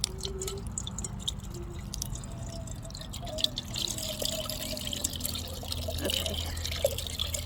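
Water drips and trickles out of a freshly opened coconut, a steady patter of small drops close by, with a brief spoken word at the start.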